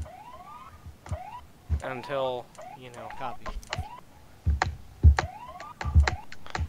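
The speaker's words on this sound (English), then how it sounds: "I hear you blipping your siren." An emergency vehicle siren blips in the video game Emergency 4, short rising electronic whoops repeating a few times amid clicks and thumps, with people talking over it.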